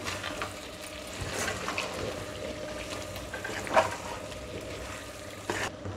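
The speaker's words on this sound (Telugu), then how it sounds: "కొత్తిమీర వేసిన తర్వాత ఒకసారి కలుపుకోవాలి." Chicken fry with coriander is stirred in a pan, with soft, close sizzling and scraping that come in uneven strokes and a louder clatter near the end, no speech.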